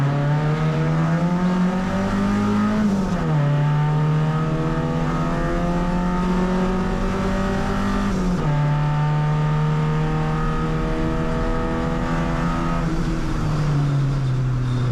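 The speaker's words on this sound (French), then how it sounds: "On m'agite un drapeau bleu ensuite pour la voiture de derrière qui plonge à l'intérieur du pont Oscar" Race car lapping a circuit during a first auto race, its engine loud and close throughout, revving up in long climbing sweeps with sharp drops at each gear change.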